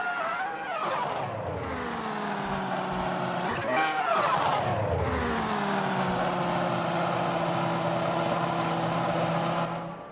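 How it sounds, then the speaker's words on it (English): A race car in a 2000s Grand Prix racing game at the Spanish Grand Prix revs hard, its engine pitch sweeping up and down in a burnout, loud and continuous, with a commentator's voice over it. "Blows out his tires. Tradition."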